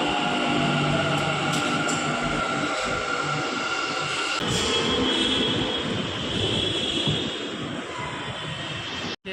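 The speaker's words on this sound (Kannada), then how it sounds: "ಸ್ಟೇಷನ್ ಮೆಜೆಸ್ಟಿಕ್ಕಿಗೆ ಬಂದೀನಿ ಮೆಟ್ರೋ ಒಳಗೆ" A Bangalore metro train on the purple Whitefield line at Nadaprabhu Kempegowda Majestic station, inside the station, gives a steady loud rumble with thin high wheel squeals and hums that shift midway, running on with no talk.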